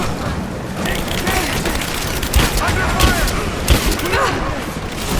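Gunfire crackles in the Rise of the Tomb Raider video game, several loud shots and bursts standing out over a dense, continuous bed of battle noise while voices shout throughout.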